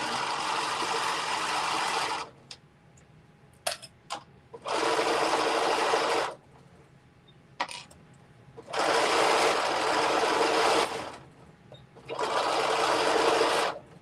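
A sewing machine stitches the shoulder seams of a garment in four sustained whirring runs, each broken by short quiet pauses with faint clicks, close and loud, with no talking.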